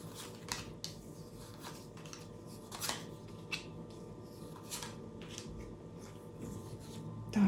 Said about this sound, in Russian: Выкладываем остальные все карты.